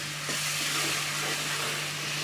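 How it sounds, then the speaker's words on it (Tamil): Garlic and tomato sautéing in a pan for pundu kolambu give a steady, close hiss of frying that holds at an even level without pause, with a low hum running beneath it. "நல்லா அந்த பூண்டு இன்னும் கொஞ்சம் நல்லா வதங்கட்டும்"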